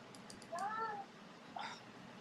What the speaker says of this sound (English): Where'd the cat go?